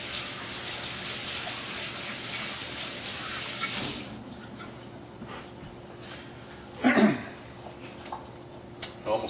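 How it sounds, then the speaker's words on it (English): A kitchen water tap runs steadily while hands are rinsed during meatloaf preparation, a loud hissing stream for about four seconds before shutting off, followed by faint splashes and small clatters. "Rinse my hands off."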